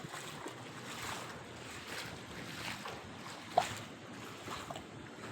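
Heavy rain and running water in Riyadh, Saudi Arabia, make a steady broadband wash at moderate distance, with one brief sharp knock partway through and no voices.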